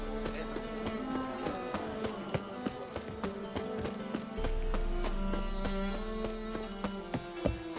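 Horse hooves clip-clop at a walking pace in The Witcher 3: Wild Hunt, a steady rhythmic clatter over soft game music, with one louder thump near the end and no speech.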